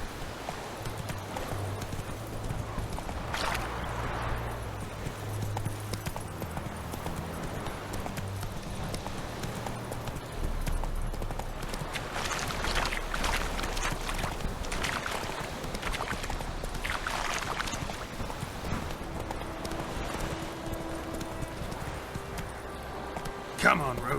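Roach, Geralt's horse in The Witcher 3, with rhythmic hooves clip-clopping at a steady pace, mid-distance, under game music and occasional spoken lines.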